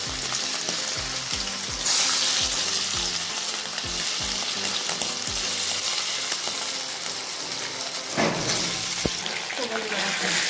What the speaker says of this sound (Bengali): আমার চিকেন ভাজা হয়ে গেছে